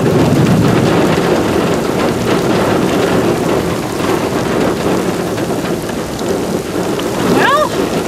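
Heavy rain pours steadily in a rain-wrapped tornado storm near Howardwick, Texas, with low thunder rolling underneath, loud and constant, and a faint brief whistle near the end.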